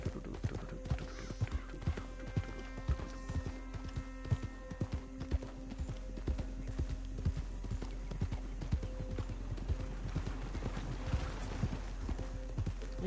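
Rhythmic horse hooves clopping evenly on the ground throughout in the video game Red Dead Redemption II, fairly close, over a faint droning background.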